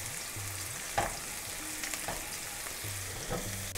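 Small pieces of chopped garlic fry in a pan, a steady soft sizzle with occasional spoon scrapes and clicks as they are stirred, close and fairly quiet, no voices.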